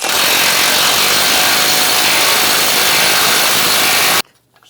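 A 24mm socket on a power tool removes the front axle nut on a Ram 1500, giving a loud continuous whirring rattle for about four seconds that then stops abruptly.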